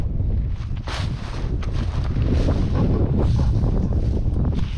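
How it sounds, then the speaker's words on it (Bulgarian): Wind blows outdoors in open countryside, buffeting the microphone with a low, continuous rumble and gusty bursts throughout. "Той е ветровито малко, не знам, може да се крие. Те няма да излязат на вятър. Ветровито е, ветровито."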